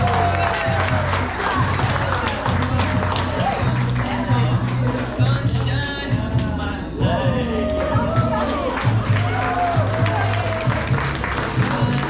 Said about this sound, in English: Please give a round of applause to Miss Gina Rose.